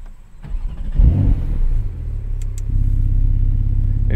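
A 2021 Porsche 911 Turbo S engine cranks and catches, revs up sharply once, then settles into a steady, deep, throaty idle close by.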